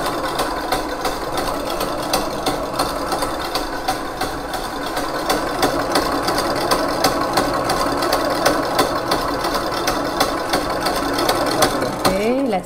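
An electric stand mixer running at speed 8, whisking chiffon cake batter or meringue toward stiff peaks, gives a steady whirring motor drone with faint rhythmic clicks throughout, close and continuous.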